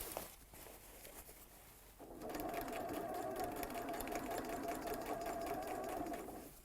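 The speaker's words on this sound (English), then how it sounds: "We make sure we're stitching this seam flat down." Sewing machine stitching a flat seam on a scrubs jacket, starting after a quiet pause and running as a steady, close, continuous whir for several seconds before easing off.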